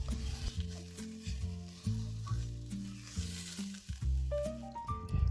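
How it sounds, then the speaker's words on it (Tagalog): Loud, steady sizzling of chicken frying in a hot pan, with a musical tune playing over it. "i-brown ng mabuti ang chicken"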